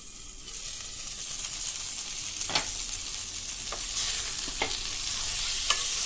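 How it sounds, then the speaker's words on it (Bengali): Rohu fish pieces salted and frying in a covered pan give a steady, soft sizzle throughout, broken by a few quick scraping stirs. "তারপরে একটু ভাজা ভাজা করব।"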